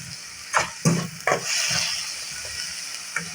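Onions and tomatoes sauté in a pan for egg bhurji, with a steady soft sizzle broken by a few sharp scraping stirs of a spatula near the start and one light clink near the end.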